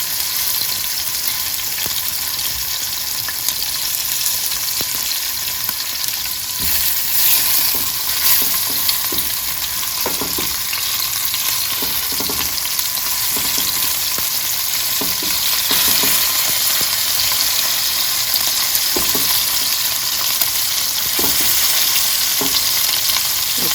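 Oxtail pieces browning in a hot pan, giving a loud, continuous sizzle and crackle with scattered taps and scrapes from turning the meat, close by and steady for over twenty seconds, with no talking.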